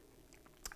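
A single close bite into homemade caramel sauce, with a brief crunchy snap and soft chewing sounds, brief and fairly quiet in a quiet kitchen.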